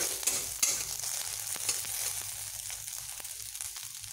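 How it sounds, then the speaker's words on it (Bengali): Oil sizzles steadily in a pan as spices including nigella seeds lightly fry, with a few sharp clicks of a spoon stirring near the start. "এবার একটু ভালোভাবে এগুলোকে হালকা একটু ভেজে নেব"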